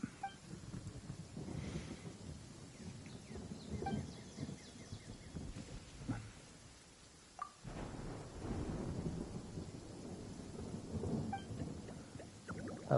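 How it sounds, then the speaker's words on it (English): A video game thunderstorm rolls on with deep, distant rumbles of thunder and a steady wash of rain, the crashes rising and fading in uneven waves. "I like the vibe with the thunderstorm."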